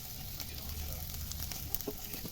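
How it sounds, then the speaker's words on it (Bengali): Chopped garlic and ginger frying in hot oil, a soft, continuous hiss and crackle held at a steady low level, fairly faint, with a bed of background hum. "তেলটা গরম হয়ে গেছে, এর মধ্যে আমি দিয়ে দিচ্ছি রসুন কুচি, তার মধ্যে দিচ্ছি অল্প আদা কুচি।"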